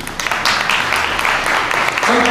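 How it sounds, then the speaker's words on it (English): An audience at a public talk applauds the event organizers, a broad, continuous patter of many hands clapping in a hall, with voices faintly present underneath. "You can feel free to applaud the organizers of this now."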